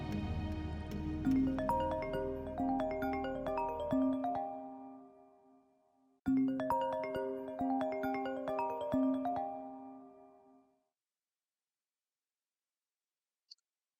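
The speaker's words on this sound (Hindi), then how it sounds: "गजल की वीडियो कॉल आ रही है मुझे जलाने के लिए" Phone ringtone for an incoming video call: a bright melodic chime phrase plays twice, clear and fairly close, then stops, leaving near silence broken by a single faint click.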